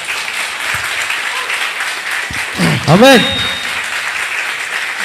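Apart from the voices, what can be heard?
congregation applause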